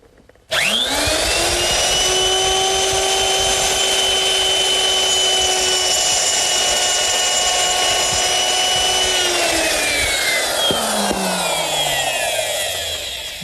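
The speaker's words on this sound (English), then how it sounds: "I'm going to use my router, which is set up with a 1/4 inch round nose bit and a rip fence" A router with a 1/4 inch round nose bit and a rip fence cuts a groove, a loud close whine holding steady for about nine seconds before winding down.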